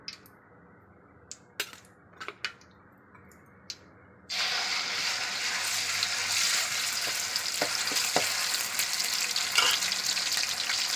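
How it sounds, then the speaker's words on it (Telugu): Masala tipped into hot oil for a fish curry bursts into a loud, continuous sizzle after a few quiet seconds of scattered clinks and taps, then keeps crackling and spitting steadily. "ఆయిల్ కాగిందండి. మసాలా వేస్తున్నాను."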